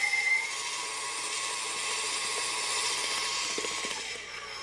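An electric hand mixer whirs steadily at medium speed, beating cake batter for a Grand Marnier chocolate chip cake, a loud continuous high-pitched drone with slight wobble and no pauses.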